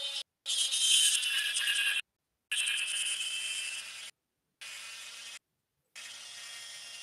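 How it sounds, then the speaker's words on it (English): A Dremel rotary tool cuts into thin resin model parts, a close high-pitched buzzing whine in four separate bursts with short silent gaps between them. "when you're doing Dremel work right like this"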